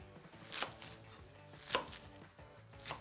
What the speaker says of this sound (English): I have some kale that I've pre-washed right over here, and we're just gonna kind of roughly chop it.